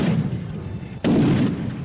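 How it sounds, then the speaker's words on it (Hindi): A battlefield in Yemen carries a low rumble of mortar and artillery fire, broken by one sharp, loud blast midway that leaves a heavy booming tail behind it. "गोलियां तो क्या, उन्होंने ताबड़तोड़ इतने मोर्टर दागे"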